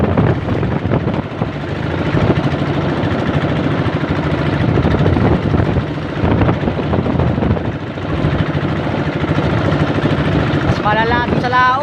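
A small wooden outrigger boat's engine runs slowly through choppy water in strong wind, a steady, loud droning hum that continues throughout with wind noise, and a voice speaks over it.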